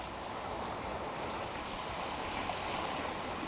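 Sea waves washing onto the shore in the evening, a steady, faint broadband rush of surf heard from nearby, with light wind and no voices.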